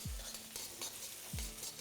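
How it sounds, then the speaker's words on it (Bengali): Sliced onions browning in a pan crackle as they fry, with two scraping stirs of a utensil against the pan over the steady sizzle. "পেঁয়াজটা কিন্তু আস্তে আস্তে বেশ লাল লাল করে ভাজা হয়ে আসছে।"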